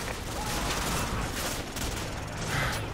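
Enemy gunfire in Call of Duty 4 crackles in dense, overlapping bursts, a busy rattle of shots that holds steady and loud for the whole stretch.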